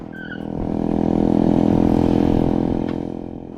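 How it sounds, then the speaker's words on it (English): A motorbike engine on a Philippine road trip between Cebu City and Zamboanga City runs with a loud, steady, close drone that eases slightly toward the end. "And just like that, the engine went dead."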